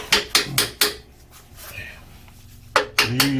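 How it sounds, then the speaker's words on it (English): A ratchet swung as a hammer strikes a car part while fitting a caster-correction kit on a Suzuki Jimny, four sharp metallic knocks in quick succession, a pause, then three more close, loud hits. "Are you using the ratchet hammer again?"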